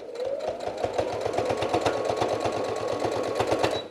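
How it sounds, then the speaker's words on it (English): A sewing machine stitching a fabric seam, a fast, even run of mechanical needle clatter held close and steady for a few seconds, with no talk. "do a back stitch, and then go forward all the way through"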